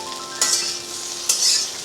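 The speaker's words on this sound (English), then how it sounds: "fry our bhendi or ladyfinger here, and then later on we'll add our green chilies" Okra (bhendi) fries in a pan with a steady sizzle, and two brief louder stirring bursts of spatula scraping break through the frying crackle.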